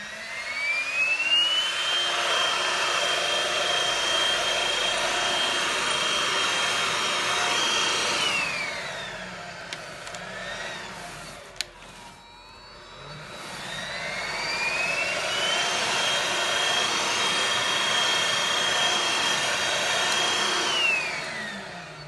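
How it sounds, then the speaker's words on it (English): Hoover vacuum cleaner sucking up shake and vac carpet powder, a loud steady whine that spins up, runs, winds down to a pause, then starts again and runs on, close and with no talk. "As you can see, I have my hoover here."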